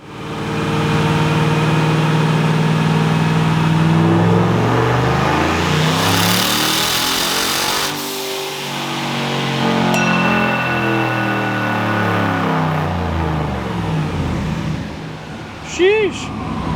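The engine of a turbocharged 2017 Chevrolet Silverado revs hard on a dyno pull, climbing steadily in a loud, sustained roar. It then backs off and settles, with brief voices and a faint whistle near the end.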